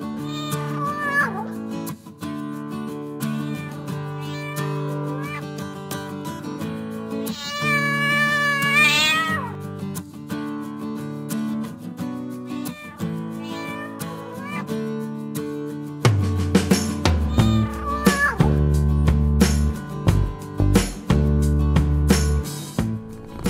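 A house cat meows over and over, with sustained harmonic cries that rise and fall in pitch, one high and drawn out in the middle. Heavy low rumbling and clattering noise come in during the last third.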